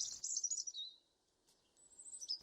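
A small bird chirping, a high twittering call followed after a short pause by another thin, sharp call, clear and alone against quiet background.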